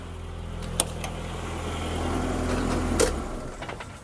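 The engine of a classic Mini under cooling-system repair runs at a low steady idle, close and rumbling, then cuts off near the end and leaves a quiet background.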